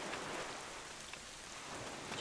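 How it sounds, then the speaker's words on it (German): Steady, soft rain falls in The Legend of Zelda: The Wind Waker HD, a continuous hiss of drops with no pauses, fairly quiet, and nobody speaks. "Und es regnet."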